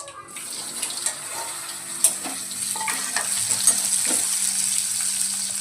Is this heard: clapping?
no